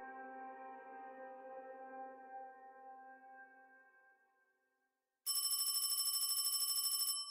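A telephone rings in a carabinieri station, a bright electronic trill repeating rapidly for about two seconds after a fading tonal music passage and a brief silence.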